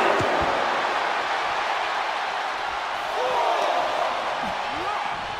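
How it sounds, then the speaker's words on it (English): A wrestler hits the ring post face first during a WWE Raw mixed tag match and is thrown back onto the mat, with dull impacts under crowd noise and commentary. "Ah, face first off the post. And gets tossed back into the mat."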